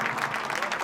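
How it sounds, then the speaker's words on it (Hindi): Crowd applause welcoming a speaker at a political party gathering in India, a brief, dense burst of many hands clapping close and loud throughout. "आप तालियों से"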